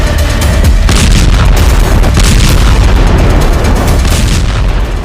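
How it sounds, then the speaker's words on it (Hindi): Heavy bombardment in southern Lebanon, with loud, dense booms and blasts rolling almost continuously, one overlapping another without pause. "कहीं जोरदार धमाकों के साथ आग का गुब्बार उठता नजर आया।"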